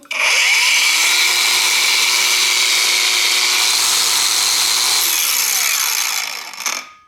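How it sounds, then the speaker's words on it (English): A counterfeit Makita DGA452Z 125mm cordless angle grinder spinning up to a loud, steady, high-pitched whine close by, running alone for several seconds before winding down. "Sounds like just every other grinder that you've ever owned."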